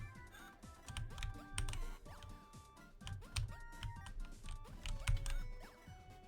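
Rapid clattering keystrokes on a computer keyboard during a game, tapping in irregular bursts with some louder hits, close and fairly quiet, without talk.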